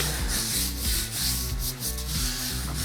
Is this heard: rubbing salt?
yes